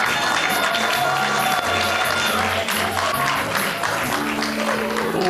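An audience at a Curvy Girl Project event claps and cheers continuously, with whoops mixed in over music still playing underneath.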